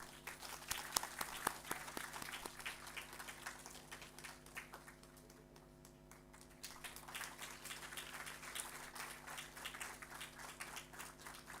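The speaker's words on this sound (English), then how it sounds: "Let us have a big round of applause." Faint, distant applause from an audience at a stakeholders' meeting on weather and climate services, a steady wash of clapping over a constant electrical hum that briefly thins midway before swelling again.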